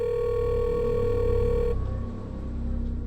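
A telephone call's ringing tone plays as a steady, even electronic tone, fairly quiet, then cuts off abruptly about halfway through, leaving faint background hiss.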